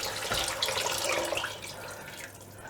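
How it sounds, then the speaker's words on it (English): Water from a tap pours steadily into a pot of homemade minestrone soup with ham stock, a close continuous splashing rush that eases slightly toward the end. "the rest of the stock I'm adding as water"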